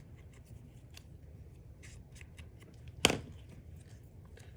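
Scissors trimming paper for a handmade mini album, quiet soft snips and rustles with one sharp, louder cut near the end, close up and without talk.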